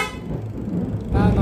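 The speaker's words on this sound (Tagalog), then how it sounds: "Original Pia horn, walang stock na busina." An aftermarket Pia car horn, fitted in place of the stock horn on a Honda Click 160 scooter, sounds loudly in a short blast near the end, after a rumbling engine-like drone.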